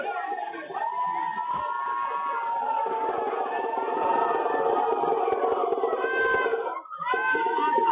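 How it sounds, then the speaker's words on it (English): A large outdoor crowd at a Gujarat election event chants and cheers in sustained waves to hail the arriving Prime Minister, loud and continuous with voices rising and falling, briefly dipping near the end. "chants of hailing the PM"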